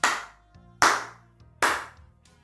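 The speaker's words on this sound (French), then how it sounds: "On applaudit." Three short bursts of hand clapping from a small group, each about a second apart, sharp and close, with nothing else audible.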